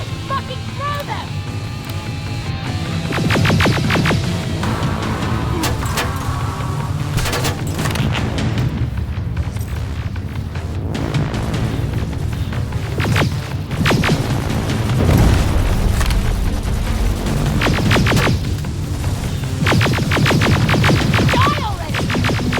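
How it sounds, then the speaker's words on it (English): Grenade blasts and gunfire in the video game Terminator Resistance: heavy booms and sharp cracks burst repeatedly over a loud, rumbling battle, with shouted voices in between. "Got grenades? Fucking throw them!"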